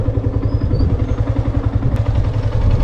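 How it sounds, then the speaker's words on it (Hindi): A motorcycle engine runs loud and close with a steady, rumbling low pulse as the bike comes to a stop, with no talking over it. "चलिए सीधे बाइक रोकते हैं और चलते हैं"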